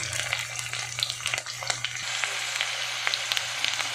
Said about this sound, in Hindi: थोड़ा सा और हम फ्राई करेंगे ताकि इसके अंदर जो ईचिंग वाली कमी है वो निकल जाए